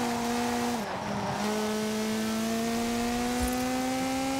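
A Peugeot 207 Super 2000 rally car in Forza Horizon 4 slides with a sustained engine drone and tire squeal, its pitch dipping briefly before holding steady.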